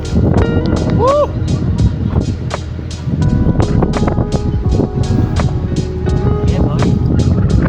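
Strong wind blows across a campsite microphone at a cabin-style camping spot, a steady roaring rush with rapid clicking and crackling throughout, while people talk and cheer briefly over it.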